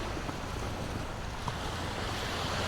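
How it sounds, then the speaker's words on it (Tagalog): Ocean waves washing onto a quiet beach campsite in Siruma, a continuous broad rushing surf with wind buffeting the microphone, steady and fairly loud with no talk. "Yung hampas lang ng alon."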